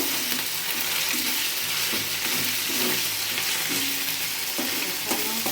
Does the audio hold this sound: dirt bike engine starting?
no